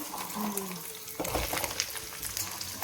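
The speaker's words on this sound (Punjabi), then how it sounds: "ਉਹ ਤੇਲ ਸਾਡਾ ਗਰਮ ਹੋ ਗਿਆ ਤਾਂ ਆਪਾਂ ਇਹਦੇ ਵਿੱਚ ਪਾਤਾ ਲਸਣ" Garlic dropped into hot oil for a homemade carrot and garlic pickle, a soft hiss and sizzle with stirring clatter and a low thump, fairly quiet and close.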